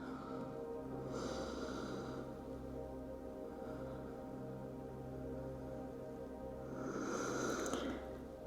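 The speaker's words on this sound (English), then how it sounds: "Take a few more deep breaths here." Slow, deep breaths during an at-home no-equipment strength and balance workout, two long airy exhales rising and fading several seconds apart over a steady low hum, fairly faint and close.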